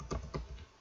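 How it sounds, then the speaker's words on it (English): A few quick keystrokes on a computer keyboard while coding a button's click listener, soft and close, in an irregular rhythm. "notice as I start typing"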